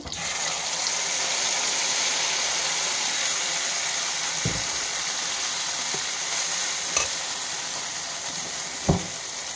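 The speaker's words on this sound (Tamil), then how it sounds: "அரைச்சி வச்சுருக்க மசாலா சேர்த்து நல்லா வதக்கிக்கலாம்" Ground masala sautéing in hot oil with bay leaves for reshmi chicken, a continuous soft sizzling hiss broken by a few sharp clinks of a spoon against the pan.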